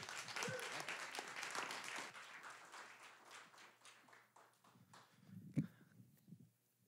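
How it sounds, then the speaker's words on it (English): Audience applause at a storytelling slam event rises into a dense burst of clapping, then thins and fades over several seconds, with a few voices and a thud near the end. "Round of applause."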